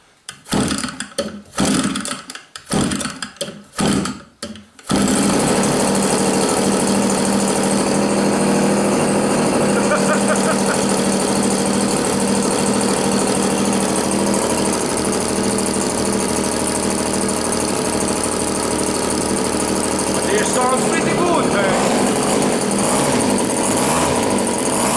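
An OS FT 160 Gemini twin-cylinder glow model engine fires in a few short bursts from starting attempts, then catches and runs at a loud, steady, buzzing drone for about twenty seconds, up close.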